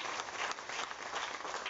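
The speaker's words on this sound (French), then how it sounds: "Applaudissements pour vous-même, pour votre soutien à vos députés" An audience applauds steadily at a political gathering in Mauritius honouring local deputies and a minister, a dense, even wash of many hands clapping close by, with no speech over it.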